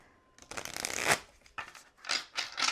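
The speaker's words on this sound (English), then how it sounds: "I'm going to shuffle this one more time" Tarot cards being shuffled by hand in a quiet room, a run of soft papery riffles and flutters in several short bursts, close and gentle with no talking.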